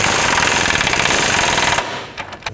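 An impact gun hammers the upper control arm bolts tight on a Chevrolet Express in a loud, rapid, continuous rattle up close, then cuts off into a few lighter clicks and knocks.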